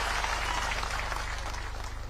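An audience at a political speech claps steadily, with a soft, continuous wash of applause that stays fairly even throughout the short stretch.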